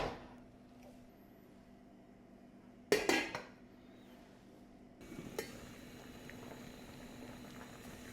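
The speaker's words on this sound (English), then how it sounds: "The second pot of beans have come to a boil." A pot of dried beans bubbles at a steady boil, and a lid clanks against it partway through. The bubbling grows a little louder afterward.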